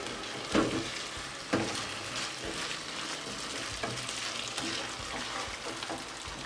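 Steady crackling sizzle of vegetables frying in a little oil in a pan, with a few scraping stirs and clinks, close up and without talking.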